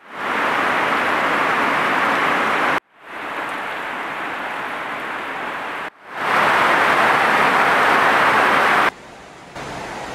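Rain pours down in Cebu as Typhoon Tino approaches. A dense, steady hiss comes in several segments separated by abrupt cuts, and its loudness shifts between the sections.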